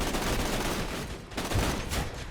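Turret gunfire in Borderlands 2, a dense stream of rapid shots rolling on for a couple of seconds with a short dip in the middle, fairly loud and alone.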